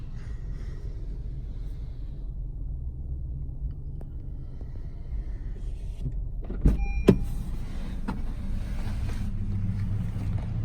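The electric sunroof of a 2019 Honda HR-V EX opens inside the cabin. A quiet, steady motor whir runs under faint road hum and ends with a couple of soft clunks as the panel stops.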